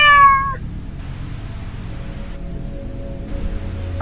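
A single short meow from a cat in the horror video game Five Nights with Bud's Reboot, loud at the very start, then fading into quiet low background hum.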